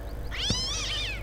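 A single drawn-out cat meow in the video game Postal 2, rising then falling, clear against a low steady background hum.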